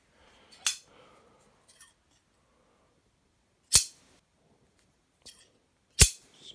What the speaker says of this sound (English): Some old fabric scissors.